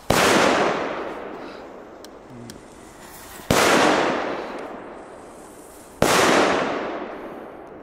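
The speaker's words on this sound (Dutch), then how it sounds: "Dat is een knal, jongen." Three loud firecracker blasts in Belgium, each a sharp crack followed by a long rumbling decay, spaced a few seconds apart with no talking.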